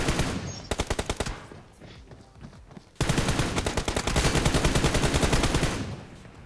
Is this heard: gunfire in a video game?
yes